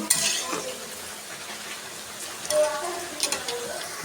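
Vegetables frying in a pan for a vegetable paneer dish, a steady soft sizzle with a few scraping stir strokes and light utensil clinks near the end.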